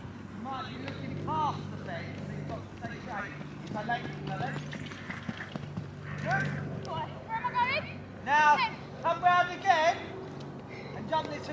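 A horse trotting and cantering in an arena, soft hoof beats faintly audible beneath near-constant talk from a rider and an instructor.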